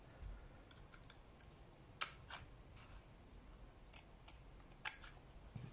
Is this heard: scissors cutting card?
yes